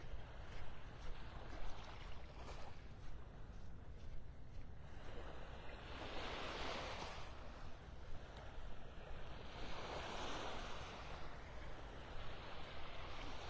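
Gentle ocean waves wash onto the beach at Delnor-Wiggins in Naples, Florida, a soft continuous surf with slow swells rising and falling, mixed with light wind noise on the microphone.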